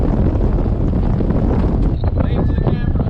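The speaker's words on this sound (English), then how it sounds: "the wind gust must be at least 25 to 30 out here." Strong gusts of wind batter the microphone on open water aboard a boat off the Florida Keys, a loud continuous roar with some wave and hull wash underneath.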